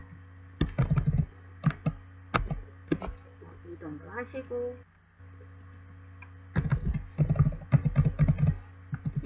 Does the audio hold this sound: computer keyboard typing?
yes